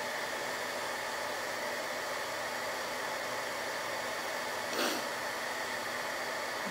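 An embossing heat tool blows hot air to melt embossing powder during a stamping craft project, a steady even whirring hiss that holds throughout at moderate volume, with no talking.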